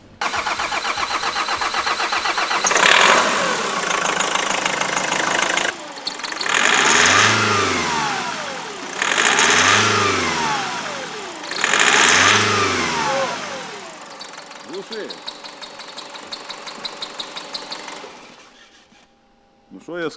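A Nissan X-Trail diesel engine cranks for a long while before catching, then revs loudly in three separate surges before settling to an uneven idle, close by, with people talking nearby.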